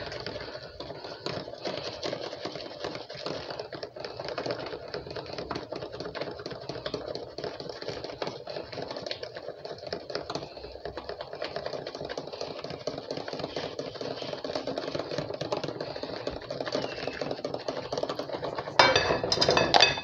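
An electric hand mixer beats vanilla custard mixture in a bowl, a continuous close mechanical whir with a busy rattling texture that holds steady throughout and rises slightly at the very end, with no voices.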